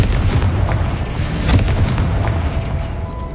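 Confringo blasting spell explosion in Hogwarts Legacy: a loud, rumbling blast with crackling bursts, peaking around the middle of a short, dense burst of game noise.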